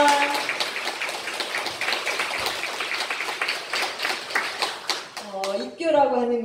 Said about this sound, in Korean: 다 같이 환영의 박수를 한번 크게 보내봅시다.